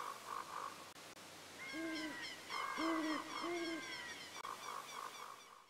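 Owl hooting from the Ocarina of Time video game, a series of rising and falling hoots in several bursts over a soft synthesized musical background, with no one speaking.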